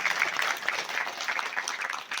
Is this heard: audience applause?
yes